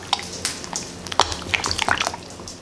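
A spoon stirs a thin, watery chicken coating batter made with cold water, giving irregular wet clicks, drips and sloshes close up, with no talk.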